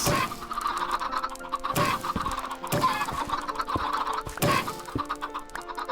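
Many Minecraft chickens cluck at once in an unbroken chorus, punctuated by a few louder bursts, close and steady, with no speech.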